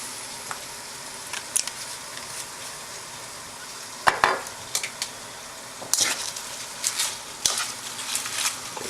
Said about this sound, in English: That's plenty hot for the greens to cook down